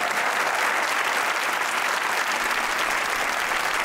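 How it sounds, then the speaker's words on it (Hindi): Studio audience of a Pakistani comedy talk show claps loudly and continuously, a dense, even wash of applause with no voices over it. "ताली।"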